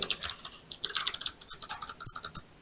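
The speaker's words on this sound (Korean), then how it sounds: "입력해요." Fingers type quickly on a computer keyboard, close to the microphone. The keystrokes come in crisp, rapid bursts with two brief pauses, and no one speaks.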